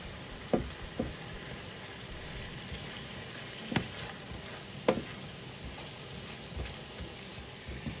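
Mantu dumpling filling fries with a splash of water in a pan, a soft continuous sizzle with a few distinct spoon taps and scrapes spread through it.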